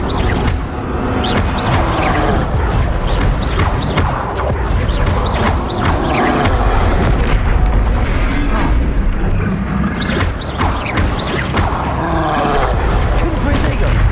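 Spell blasts from Bombarda and Confringo in Hogwarts Legacy: loud, dense rumbling explosions and whooshes pile up continuously through the clip, with a voice calling out over the din.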